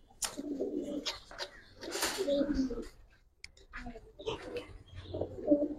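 Giribaz racer pigeons coo in bursts close up, throaty rolling calls repeating in uneven phrases with brief pauses, amid rustling and background noise.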